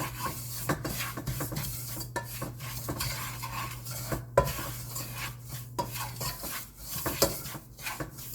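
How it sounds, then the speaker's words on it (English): Semolina frying in a pan, stirred with a utensil that scrapes and rubs in irregular strokes against the metal over a faint steady hum, close and moderately quiet. "And fry that. Just fry for 1 to 3 minutes."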